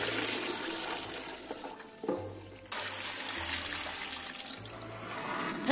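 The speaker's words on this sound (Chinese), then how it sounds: "然后把盆里面这些清澈的水倒掉。" Clear water from settled sweet potato starch liquid is poured out of a basin, giving a steady, close rushing and trickling of water that runs throughout with a brief dip partway.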